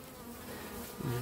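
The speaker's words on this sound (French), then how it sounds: "Voilà les abeilles." Honeybees at an apiary hive during an open inspection, a brief, faint, steady buzz of many insects with a slightly rising drone at the end, no talking.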